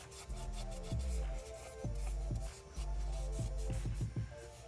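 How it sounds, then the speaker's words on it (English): A rag soaked in acetone or brake cleaner scrubs the lower intake plenum of a 2011-2014 Mustang 3.7 engine, making close rhythmic rubbing strokes with short pauses between them. "take a little bit of acetone or brake clean and clean off the lower plenum"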